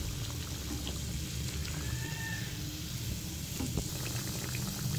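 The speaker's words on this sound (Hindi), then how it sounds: "कुकिंग ऑयल के नीचे मैंने फ्लेम ऑन कर दी थी और अब हम इसे फ्राई होने के लिए थोड़ी देर के लिए छोड़ देंगे" Bread pakora frying in cooking oil gives a soft, steady bubbling sizzle, fairly faint and even throughout with no talk.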